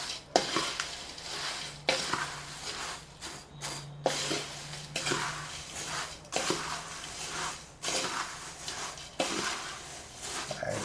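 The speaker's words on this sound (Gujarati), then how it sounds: "હવે આ બધું આપણે મિક્સ કરીએ ને પછી ખ્યાલ આવે કે આપણે આમાં સેવ કેટલી એડ કરવી." Crunchy sev is tossed with masala in a bowl, making repeated rustling, crackling scrapes in rhythmic bursts, close and fairly steady, with no talking.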